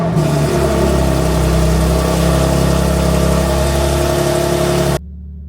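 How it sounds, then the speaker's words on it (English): A BMW M4 G82 cold start: a loud, steady engine roar right up close, with a high, strained idle held for about five seconds before it cuts off abruptly. "This car just sounds incredible on that cold start"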